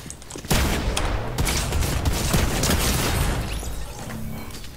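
Dense, continuous gunfire and booms in a shooter video game, loud overlapping shots and blasts sustained throughout without a break.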